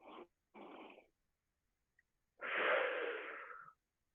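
Audible breathing during a stretching exercise in a live virtual fitness class: two short inhales, a pause, then one long, steady exhale, close and fairly soft.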